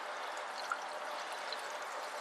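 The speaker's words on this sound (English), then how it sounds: "I'm just going to fill mine up with straight water." Plain water pours steadily into the cooling system of a Cummins engine during a water pump replacement, a soft continuous splashing stream heard alone at low level.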